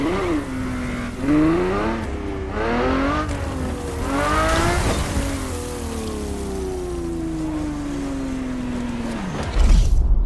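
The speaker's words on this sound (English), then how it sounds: "The car you're about to drive in this opening event is none other than the first Ferrari in the supercar bloodline, the Ferrari GTO" A Ferrari GTO engine in a racing game revs up through several gear changes, then holds a long, steady high-pitched drone that slowly falls away, loud and close throughout.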